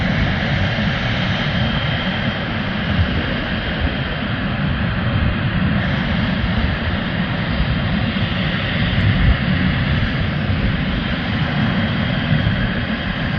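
A small airplane powers up for takeoff, its steady broadband engine roar loud and constant throughout with no pauses and no voices.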